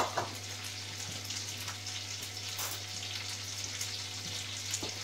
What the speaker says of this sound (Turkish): Tereyağında kızarıyor bu arada.